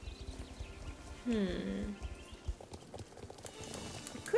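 A horse's hooves clip-clop in a steady rhythm in Star Stable, and a short whinny cuts through the middle, with a person speaking briefly.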